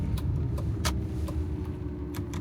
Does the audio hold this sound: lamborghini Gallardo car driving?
yes